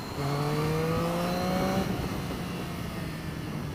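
A Triumph Street Triple 660 motorcycle's triple-cylinder engine revs after a downshift, a strong steady tone that holds, then fades into wind and road rush as the rider rolls on.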